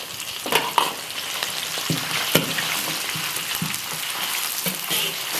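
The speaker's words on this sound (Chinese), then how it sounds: "锅里倒油，下入葱姜、干辣椒、花椒、八角、桂皮、香叶、小茴香" Scallion, ginger, dried chili, Sichuan peppercorns, star anise, cinnamon, bay leaves and fennel seed fry in hot oil in a wok, a bright, close crackling sizzle punctuated by a few stirring clacks.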